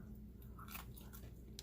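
Someone bites into a cookie that is crunchy outside and creamy inside, giving a few faint, close crisp crunches and soft chewing over quiet background hiss.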